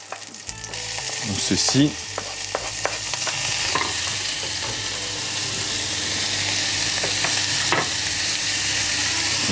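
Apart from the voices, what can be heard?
shallots sweating in butter in a pan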